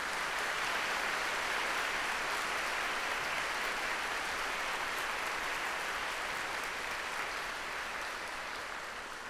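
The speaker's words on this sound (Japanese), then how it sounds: "素敵な演奏を披露してくださった中学生高校生の皆さんにもう一度盛大な拍手をお願いいたします" Sustained applause from a concert audience for middle and high school wind band performers, dense and steady throughout, slowly fading toward the end.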